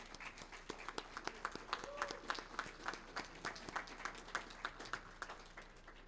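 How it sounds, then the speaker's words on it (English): Graduation audience applauding the graduates, a steady, moderately distant wash of many hands clapping on its own without talk. "Let's give a round of applause for all of our graduates."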